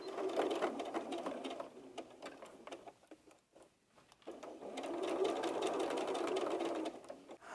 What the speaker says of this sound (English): you're going to sew either an inside stitch or an outside stitch just for about 1 inch